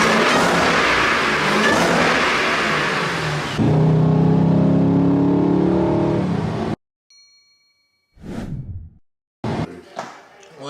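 Supercharged Dodge Durango SRT with a Whipple blower making over 600 horsepower, loud engine roar under voices for several seconds before cutting out, followed by brief bursts of noise and talk.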